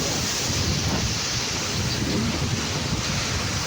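A steady, roaring typhoon gale buffets the microphone with constant low rumble and hiss, no pauses, loud and unbroken throughout.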